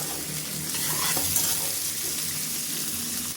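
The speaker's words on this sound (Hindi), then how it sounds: "2 से 3 हरी मिर्च काट के डाल देंगे, 1 चॉप किया हुआ टमाटर, इनको भी कुछ सेकंड भून लेंगे।" Green chillies and chopped tomato sizzle steadily in hot oil in a pan over a medium flame, a continuous close frying hiss with faint stirring, no voices.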